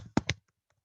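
Two quick taps land on a computer keyboard, close and distinct, about a tenth of a second apart. After them come a few faint, tiny clicks and then quiet.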